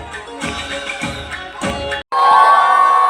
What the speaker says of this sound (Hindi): एक बार जोरदार तालियों से स्वागत करें सभी बच्चों का